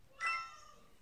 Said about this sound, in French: Si vous entendez mon chat miauler,